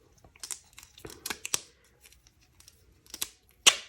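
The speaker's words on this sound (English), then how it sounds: "So what I'll do is I'll actually take some duct tape." Duct tape being pulled and torn from a roll, a series of sharp crackling rips and crinkles, close and fairly quiet, ending with one louder tear.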